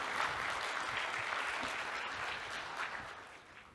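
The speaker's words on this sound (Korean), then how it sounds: "박수로 맞아주시면 감사하겠습니다." An audience at a lecture during a Kim Dae-jung peace festival academic event applauds steadily, a dense wash of clapping that holds level for the whole stretch and eases slightly at the end.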